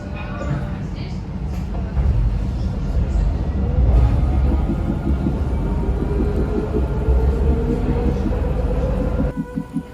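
A Dubai tram runs along its rails with a steady, loud rumbling roll from inside the car and a rising electric motor whine, and a voice speaks over it.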